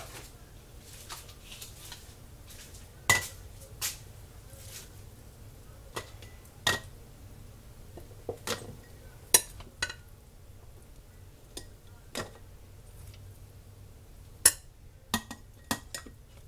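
Corned beef hash is packed into canning jars with a poker and spoon packer, making scattered sharp taps and clinks of metal against glass at an irregular pace, quiet and close with soft scraping between hits.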